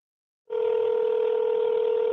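A telephone number is dialed, and after a short silence a steady electronic touch-tone sounds at moderate loudness and continues without a break, with no voices.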